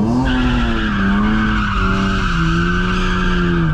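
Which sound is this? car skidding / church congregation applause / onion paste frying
car skidding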